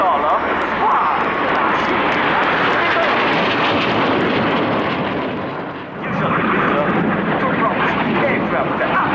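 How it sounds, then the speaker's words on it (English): Frecce Tricolori solo jet performing a tail slide and aerobatics at RIAT 2018, a loud, continuous roaring engine rumble that dips briefly before surging again, with a commentator's voice talking over it. "Ladies and gentlemen, this is the tail slide of the solo pilot of Frecce Tricolori."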